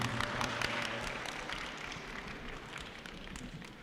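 Audience applause greets an architect arriving to speak on sacred geometry in nature and art, a dense steady clapping that fills the hall at moderate volume for several seconds, without talk.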